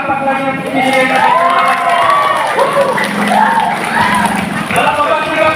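A lively crowd at a feeding program cheers and shouts, with children's excited voices rising and falling over scattered clapping, loud and close throughout.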